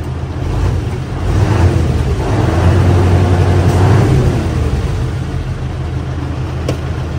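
A 12-wheeler self-loading truck engine runs steadily with its PTO engaged: a loud, close, continuous low rumble that swells briefly in the middle and then settles, with no voices.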